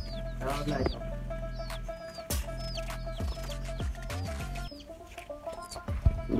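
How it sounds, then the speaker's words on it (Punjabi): Small pink-dyed chicks cheep in repeated high, thin peeps, several birds close by, over a background hum and occasional bumps and handling noises. "ਪਿੰਕ ਕਲਰ ਦੇ ਚੂਚੇ"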